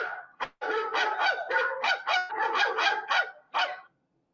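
Dogs bark in a rapid run of about a dozen loud, close yaps and woofs in quick succession, ending after a short pause with one final bark.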